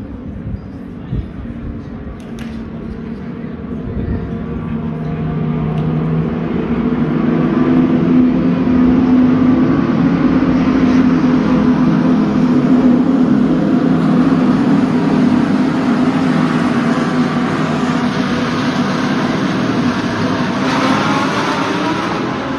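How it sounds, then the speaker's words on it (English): DTM touring race cars during the second race at a circuit, a broad sustained engine roar that swells and holds as the field passes, heard from a distance with a continuous droning hum and no clear talk. "now we're gonna watch the DTM race, the second race."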